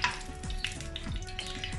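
Cooking oil in a hot frying pan sizzles and crackles softly at close range, with a light clink or two of utensils, heard briefly while no one speaks.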